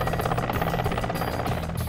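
A Mi-17 military transport helicopter thrums with a steady, loud rotor chop and engine drone, its rhythmic blade beats pulsing evenly throughout.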